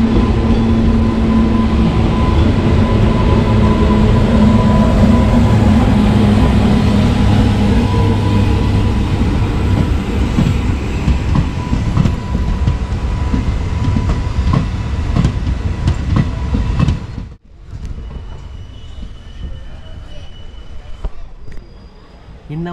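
An Indian Railways bi-weekly express train (Thoothukudi–Mettupalayam, 16766) thunders past at close range with loud continuous rumbling and rhythmic clickety-clack of wheels, then cuts off abruptly to quieter surroundings, with someone talking at times.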